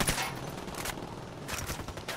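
Gunfire from a PS4 video game: dense bursts of shots crackle through the clip, loudest near the start and again after the midpoint, with no talk over them.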